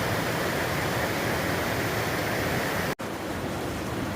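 Rushing water of Woods Creek, a mountain creek near Pinchot Pass on the Pacific Crest Trail, roars as a steady, loud, close broadband wash with no pauses throughout.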